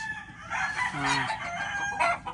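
A fighting rooster lets out one full crow of rising and falling tones, loud and close, with background noise around it and no talking.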